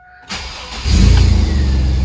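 A 2000 GMC Jimmy's engine cranks and starts right after a new fuel pump install, a brief starter whir followed by the engine catching into a loud, steady idle.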